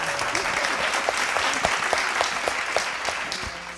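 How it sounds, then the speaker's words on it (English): An audience at a relationships discussion show breaks into hand clapping: steady, fairly close applause with individual sharp claps standing out over the crowd throughout. "That hand clap."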